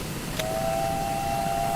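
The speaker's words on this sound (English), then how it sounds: "The famous Great Western chime whistle." A Great Western Railway steam locomotive's chime whistle sounds in a train simulator game, one sustained tone that starts sharply and holds steady at moderate loudness over a low rumble.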